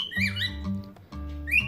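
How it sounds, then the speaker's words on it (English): A dolphin gives short, high whistles, one near the start and another near the end, each rising and sliding in pitch above soft background music. "Dolphin"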